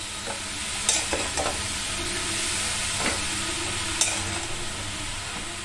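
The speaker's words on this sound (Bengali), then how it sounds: "এবার আমি গাজরগুলো কুচি করা আছে ওইটা দিয়ে দিচ্ছি। একটু নাড়াচাড়া করে নাও।" Chopped carrots frying in a pan for a sandwich filling, a constant bright sizzle with intermittent scraping strokes of a spoon stirring, close and fairly loud with no talking.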